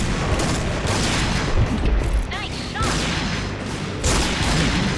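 Sniper and rifle gunfire in the online shooter Point Blank: repeated sharp shots and bursts over several seconds, fairly loud, with busy battle noise and a few quieter gaps between volleys.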